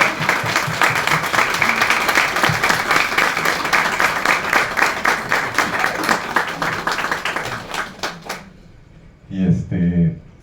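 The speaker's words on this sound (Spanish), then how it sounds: "Un aplauso para Ana." Crowd at a bookstore book launch clapping for a person, a lively round of applause that thins into a few scattered claps and stops, followed by a short burst of speech.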